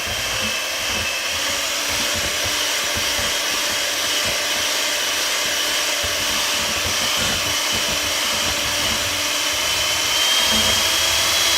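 A stand mixer whirs at high speed while mixing pumpkin cookie dough, a steady loud motor whine held continuously without a break.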